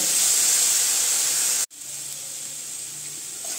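Masala with salt and turmeric fries in a pan, a loud steady sizzle and hiss that cuts off abruptly, then continues more softly nearby, with no talking.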